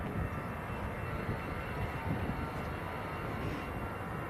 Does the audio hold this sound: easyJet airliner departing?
yes